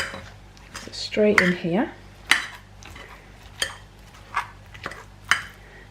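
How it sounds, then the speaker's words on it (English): Knife slicing butternut squash into chunks: a handful of sharp, separate knock-like cuts against a board, spaced about a second apart, with someone talking briefly over the first one. "all I'm going to do is just literally slice it into chunks"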